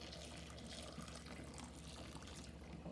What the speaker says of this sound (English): I'm going to throw hot boiling water on it for 10 minutes